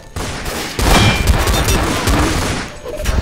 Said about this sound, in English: Watch out for the cannon!